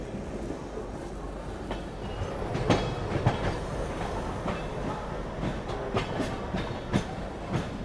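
Steady rolling rumble with rhythmic clickety-clack of wheels over rail joints on an Indian Railways line in the Bilaspur division, heard continuously and fairly close, with no voices.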